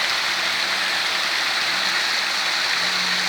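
Water fountain in Piazza Garibaldi, Gemona del Friuli, splashing steadily, a dense, even rushing and pattering spray that stays loud and unchanging throughout, with no voices.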